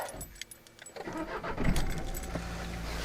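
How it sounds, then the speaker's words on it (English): A Vauxhall Corsa engine cranks and catches, settling into a steady running rumble after a short jingle of keys, close by with no talk. "let's just start the car up."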